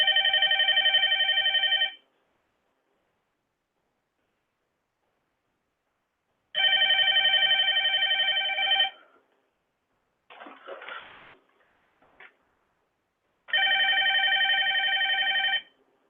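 A desk telephone on a VirtualPBX office phone system rings with a coworker's call in three separate bursts of steady electronic trilling with gaps of silence between them, and a brief cough or throat-clearing comes in the middle gap.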